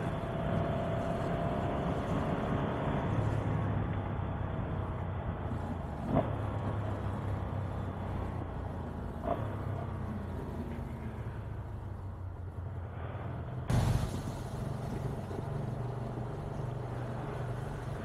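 A Ducati Monster motorcycle engine runs steadily on a morning commute, a continuous low droning rumble with wind rush and a few brief bumps, heard close from the rider's position.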